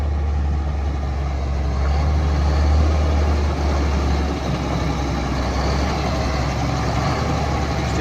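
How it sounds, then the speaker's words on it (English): A 1999 Mack RD688S dump truck, recently used for hauling lime and rock, runs with a loud, steady, deep diesel rumble close by, unbroken throughout with no voices. "Truck runs strong, guys."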